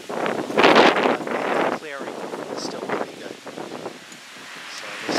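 Strong gusts buffet the microphone on a very windy day at an abandoned railroad crossing on Main Street in Hudson, Massachusetts, roaring loudly and unevenly beneath a voice.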